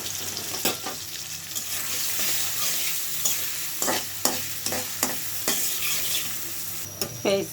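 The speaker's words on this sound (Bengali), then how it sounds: "দিয়ে দিলাম আমি তেলে দিয়ে দিলাম পেঁয়াজ কুচি" Chopped onion and garlic fry steadily in hot oil with a continuous close sizzle, interrupted by several sharp scrapes and knocks of stirring against the pan.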